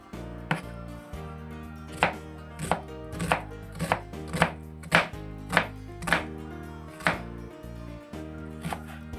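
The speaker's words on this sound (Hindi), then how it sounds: "प्याज को आपने चॉप करना, चॉप काटना अपना प्याज बारीक बारीक।" A knife chops onions finely on a cutting board, a close, steady series of crisp thuds at roughly half-second to one-second intervals with no talking.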